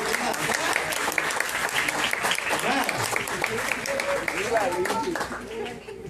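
A church congregation applauds in a steady, dense wash of clapping that carries on for several seconds, with voices speaking under it.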